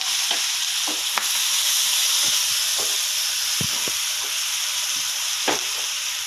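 Chopped onions and green chilies fry in a pan for a tamarind-leaf, egg and fish curry, giving a steady close sizzle with occasional stirring scrapes throughout.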